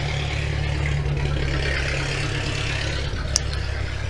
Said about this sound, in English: Loudest car ever